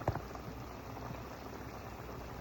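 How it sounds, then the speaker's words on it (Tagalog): A pot of noodles and sardine soup boils on the stove, a steady low bubbling hiss with a small knock at the start, soft and continuous with no talking. "Kumukulo na po siya."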